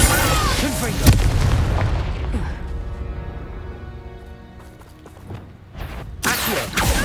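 Spell-casting blasts in Hogwarts Legacy: a heavy booming explosion up front, a fading rumble, then further sharp magical bursts, with spoken incantations over the action.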